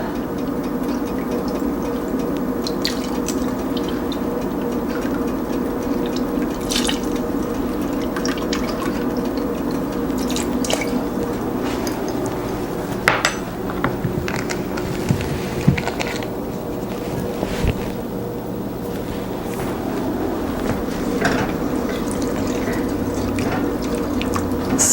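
Organic vegetable broth and soy sauce poured into a pot for mushroom soup, a long, steady splashing trickle of liquid over a low background hum, with occasional small drips and knocks.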